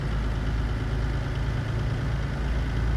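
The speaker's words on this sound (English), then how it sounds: "rather hear the engine than the music" Peterbilt 362 truck engine idling in American Truck Simulator, a steady low diesel rumble that holds evenly and continuously throughout, with no voices.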